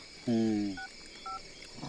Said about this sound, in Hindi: अभी दोस्त को फोन कर रहे हैं